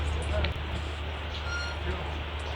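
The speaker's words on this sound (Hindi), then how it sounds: "आप गाड़ी की आवाज़ बाकायदा सुन सकते हैं। अब किस चीज़ की चरमराहट है ये," A steady, dense running rumble fills the inside of a coach on a new Rajdhani train. The low roar stays constant, with a few faint clicks and brief higher squeaks over it.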